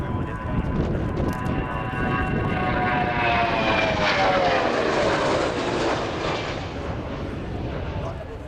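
An RNZAF Boeing 757-2K2 jet climbs away at an air display with a loud, sustained engine roar whose tone sweeps steadily as it passes. A commentator talks over it.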